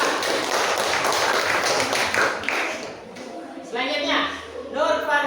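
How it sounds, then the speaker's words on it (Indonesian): Applause and clapping break out in a classroom for a student who just answered a question, a dense burst of many hands under a room murmur, with a teacher's voice entering as it fades. "Aplaus dulu untuk teman kita"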